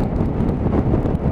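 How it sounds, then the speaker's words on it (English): Strong gusting wind buffets the microphone on a Piaggio MP3 three-wheeled scooter riding in the outside lane at speed, a steady low roar with rushes and swells and no voices. "Oh, it is windy today"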